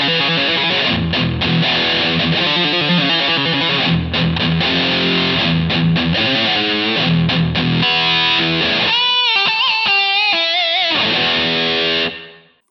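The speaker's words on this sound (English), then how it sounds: "this is the Digitech Metal Master." Electric guitar played through a Digitech Metal Master high-gain distortion model, dense saturated chords and riffs with a nasal edge, then sustained bent notes, loud and continuous until a quick fade.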